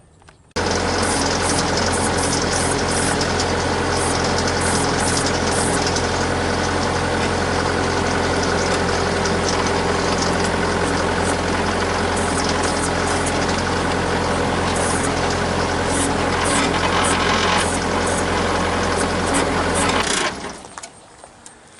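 A Bobcat 331 compact excavator engine starts and settles into a steady, loud diesel idle that runs unbroken for about twenty seconds before cutting off, with no one speaking.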